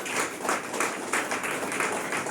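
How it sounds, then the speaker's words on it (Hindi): A congregation at a Christian healing-power church service breaks into loud applause, a dense, steady wash of many hands clapping that carries through the whole moment without speech over it. "जोर से ताली बजा।"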